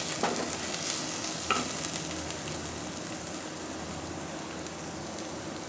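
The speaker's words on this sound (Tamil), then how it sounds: "வெங்காயம் வதங்கிடுச்சு" Onions sautéing in a pan for a Kumbakonam kadappa, a steady close sizzle and hiss with a couple of sharp stirring scrapes early on, no voices.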